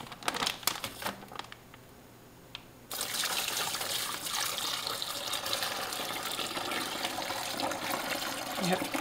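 Liquid poured into a bag while making smoked tuna dip, a steady close splashing stream starting after a brief pause, preceded by some plastic rustling.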